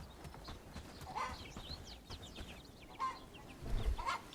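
Chickens and a rooster on a farm in the medieval village game Bellwright, faint clucking and chirpy calls scattered over several seconds beneath soft game ambience and occasional hoof-like thuds.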